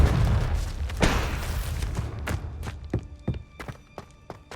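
Confringo spell in the Hogwarts Legacy video game, a heavy blast thump followed by a scatter of sharp impacts and knocks that fade in loudness.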